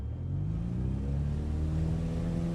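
An XCub plane's engine in Microsoft Flight Simulator runs at full power for takeoff, a steady droning rumble that holds loud and even throughout.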